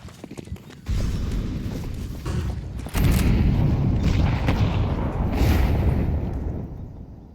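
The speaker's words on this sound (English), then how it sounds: "Oh, I heard a Molotov pop in the air there" A Counter-Strike round on the Ancient map: a Molotov pops in the air and a bomb blast follows, a loud sustained boom rumbling heavily for several seconds, alone without talk.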